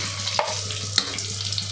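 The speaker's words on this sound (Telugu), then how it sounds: "ఇలా సెకండ్ డీప్ ఫ్రై చేస్తాం" Cut bajji fritters deep frying a second time in hot oil, a steady close sizzle with a couple of sharp pops and light stirring clinks, no talk.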